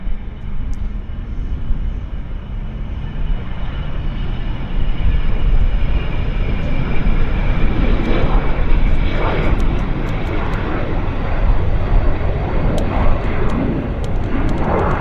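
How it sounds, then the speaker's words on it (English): A vintage American-registered Learjet business jet powers along at Vancouver International Airport, its engines a loud, steady roar that swells slightly midway and persists with no break. "American registered classic vintage Learjet action here at YVR."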